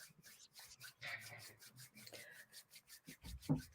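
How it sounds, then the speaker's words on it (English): Hands rubbed briskly together to warm them during a gentle yoga and self-massage session, a soft close rasping friction that runs steadily, ending in a few firmer strokes. "just take the hands and we can start to warm them up by rubbing them together"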